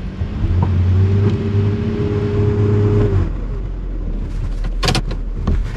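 A car engine revs hard as the wheels spin and slip in deep snow during a snowstorm camping trip, a sustained whine for about three seconds, then dying down, followed by a few sharp clicks and knocks.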